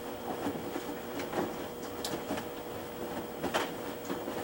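Items left in pockets rattling and knocking inside the stainless steel tub of a Kenmore tumble action washer during a wash cycle, a steady churning rumble dotted with light metallic clinks.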